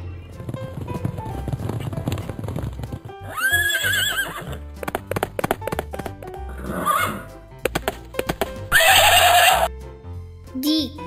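Horse hooves clip-clopping in a quick rhythmic patter, broken by two loud, quavering neighs, close and clear.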